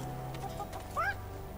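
Chickens in Divinity Original Sin 2 Definitive Edition give a short, near cluck and squawk over a low steady game background, with no voices.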